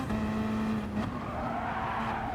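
A Porsche in a GT Sport race skids with squealing tyres over a steady engine drone, with a brief impact-like burst near the one-second mark.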